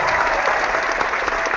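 Audience applause during a live chat show, a steady wash of many hands clapping at moderate volume with no talk over it.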